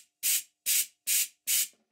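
Air blasts through a model steam engine exhaust pipe fitted with a megaphone adapter, four loud, evenly spaced hissing chuffs close by with silence between them.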